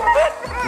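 Dogs yip, whimper and bark close by in a short burst of high, wavering whines with a low bark-like sound near the end, and a voice speaks faintly under them.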